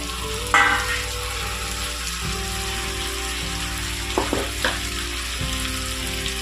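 Tomatoes fry in a pan with cooked brinjal for a curry, giving a steady crackling sizzle over a low hum, with a couple of brief clinks and stirs near the middle, and no voice.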